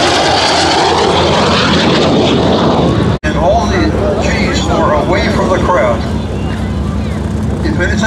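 An L-39 Albatros jet flies at the Culpeper Air Fest air show, a loud, continuous engine roar that fills the whole stretch, breaks off for a split second, then returns slightly softer, with a voice talking over it.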